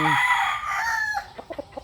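A rooster crows loudly and close by in one long, strained call, then breaks off into a few short clucks.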